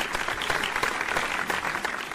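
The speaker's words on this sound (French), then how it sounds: "une petite tournée d'applaudissements pour Kent Hughes du Canadien de Montréal" A talk-show audience applauds for Kent Hughes of the Montreal Canadiens with a steady, dense round of clapping that holds evenly throughout.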